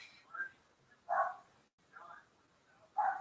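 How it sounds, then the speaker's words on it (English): Dogs barking outdoors at a distance, a few faint separate barks and yips spread over a few seconds against quiet background hiss. "More dogs out barking."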